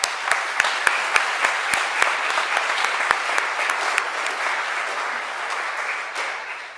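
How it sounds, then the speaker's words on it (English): An audience at a community unity awards ceremony applauds steadily, many hands clapping in a dense, sustained wash at moderate distance, tapering slightly near the end with no speech over it. "can we just give them a round of applause one more time?"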